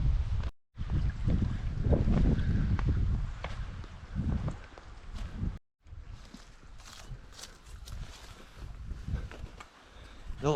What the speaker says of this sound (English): It's really windy at this point, folks.